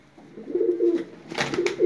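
A pigeon coos close by, a soft, low, throaty rolling call repeated a couple of times in under two seconds, with a brief rustle between the coos.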